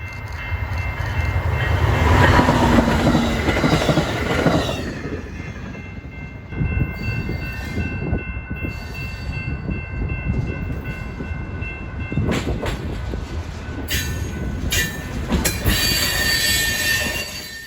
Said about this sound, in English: This particular instance was the inbound morning Illinois Zephyr making its final run in Chicago Union Station.